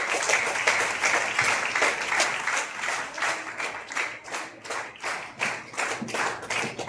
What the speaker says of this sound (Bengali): তো একবার জোরে জোরে জোরে একটা হাততালির সাথে আমি চাইবো।